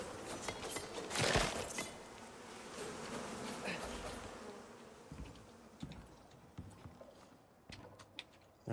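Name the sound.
bees buzzing in a cave in the video game Icarus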